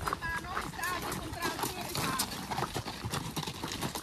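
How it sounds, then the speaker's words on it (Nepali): Horses walking along a hiking trail near Trieste, their hooves clip-clopping in an uneven close rhythm, with people talking over the hoofbeats. "ल घोडा पनि आइपुग्यो त यहाँ"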